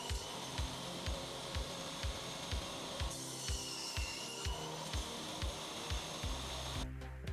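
A crosscut sled pushing woodworking stock through a saw, cutting equal pieces with a steady run of regular rhythmic ticks and rasping, with a heavier rumble near the end.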